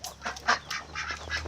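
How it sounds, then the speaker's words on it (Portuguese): A small duck on a mini farm gives a quick series of nasal honking quacks, close and fairly loud, in an uneven rhythm. "É mais uma marrequinha."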